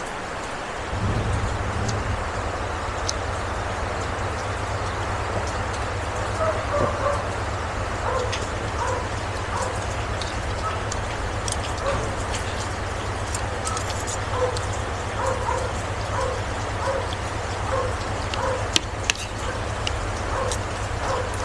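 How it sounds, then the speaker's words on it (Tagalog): Heavy rain falling steadily as a dense, constant hiss, with a low rumble starting early and dogs barking intermittently over it. "Ayan lakas ng ulan."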